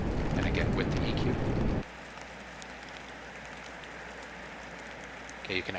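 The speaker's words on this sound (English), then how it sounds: "this sounds like a pretty decent recording of rain outside" Rain falls steadily outside as a soft, washed-out hiss, louder and fuller for the first couple of seconds and then thinner and quieter, with faint drip-like ticks scattered through it.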